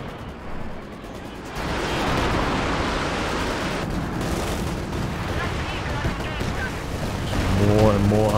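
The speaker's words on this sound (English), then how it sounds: "More and more arty coming down." Artillery fire rumbles in Company of Heroes 2 as a continuous barrage of booms and crackling blasts that grows louder toward the end, with a voice speaking over it.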